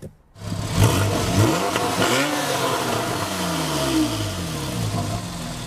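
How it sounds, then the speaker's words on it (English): A 2013 Porsche 911 Carrera 4S engine revs hard with the sport exhaust on, a loud, throaty exhaust roar rising and falling through several throttle blips before settling into a rumbling idle. "activate the Sport Exhaust button. It reduces back pressure and reverberates intake noise off the back wall of the 911"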